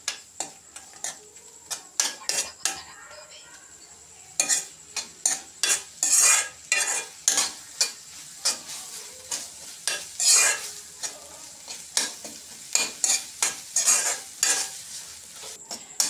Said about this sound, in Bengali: এই যে মুরগির মাংস পুর বানাইতেছি।